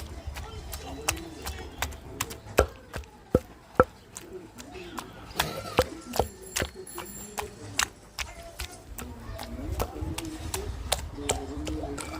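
Chutney being pounded on a grinding stone, heard as a string of crisp thumps and taps close by, quicker at the start and then uneven, with a voice talking intermittently underneath.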